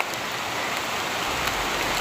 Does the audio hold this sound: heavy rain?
yes